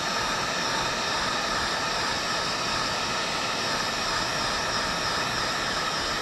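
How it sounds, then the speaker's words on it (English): Steady hot-air roar from a heat gun in use on a Warn 8274 winch repair, a loud continuous broadband rush that holds evenly throughout with no talking. "We got heat gun."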